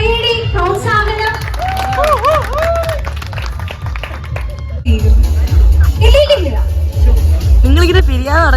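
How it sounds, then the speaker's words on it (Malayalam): A crowd applauds at a haldi ceremony, the clapping steady and mixed with babble and cheering, while a voice talks loudly over it the whole time. "നല്ല കൈയടി, പ്രോത്സാഹനം."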